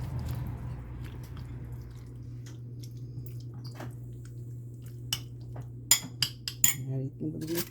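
A spoon clinks and scrapes against a bowl while tutti frutti is stirred and mixed, soft and close over a steady low hum, with a few sharper taps near the end.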